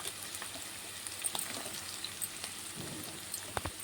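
Capsicum half-frying in a pan while gobi manchurian is being made, with a soft, low crackling sizzle and a few faint stirring knocks near the end, quiet and without speech.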